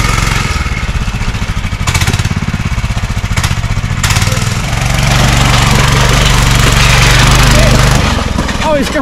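A homemade racing lawn mower's small engine drones loud and close as it labors up a hill, its pitch holding steady under strain and then rising, with people talking over it.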